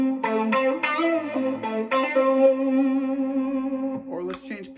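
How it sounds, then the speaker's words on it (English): An electric guitar played through a distortion effect rings out in sustained, harmonically rich notes, with a few picked attacks and a fading tail, close and clear. "maybe we'll add some distortion"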